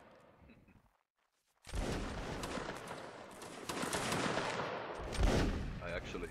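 Dense musket gunfire crackles continuously after a brief silence, with overlapping shots and a heavier cannon boom partway through, like a line battle in the game Napoleonic Wars.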